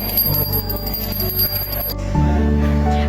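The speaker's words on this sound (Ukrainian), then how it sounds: "традиційно звучить дзвін миру" A large peace bell rings out loud, its deep tone swelling and sustaining after a stretch of ringing, metallic overtones.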